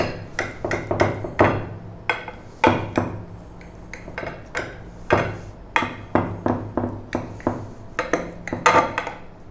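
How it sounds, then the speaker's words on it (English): A knife slicing through garlic bacon cheese potato cakes and knocking down onto a board, a series of sharp repeated thuds and clacks in an uneven rhythm, close and fairly loud with no talking. "we can grab a knife and we can cut this into whatever slices you like"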